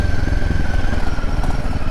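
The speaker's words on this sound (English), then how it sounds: "the bike itself actually sounds like a motorbike. It's got a bit of a growl to it" A Royal Enfield Himalayan 450 motorcycle engine rumbles steadily up close with a low, throaty growl and some mechanical clatter, with no voices.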